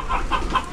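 Chickens with young chicks on a farm, three short, close clucks repeating evenly in quick succession.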